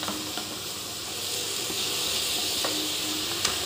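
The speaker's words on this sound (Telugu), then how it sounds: "ఇవి చక్కగా నూనెలో మగ్గిపోవాలండి" Leafy greens frying in oil for a leafy-greens chutney, giving a steady, close sizzling hiss with small crackles and pops throughout, no talk.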